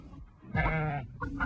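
A single goat gives one loud, wavering bleat that lasts about half a second, followed by a brief second call, with no talk.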